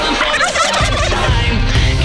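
A wild turkey in New Mexico gobbles loudly in a rapid warbling rattle, close and clear, followed by a brief low rumble from the surroundings.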